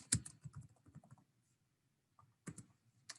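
A computer keyboard clicks in short, quick bursts while a document title is typed, with a pause in the middle before a few more keystrokes, close and quiet in an otherwise silent room.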